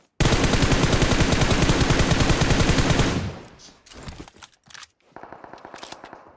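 Loud automatic gunfire in the mobile battle royale game PUBG Mobile: a sustained rapid burst of about three seconds, then scattered shots and a shorter burst near the end.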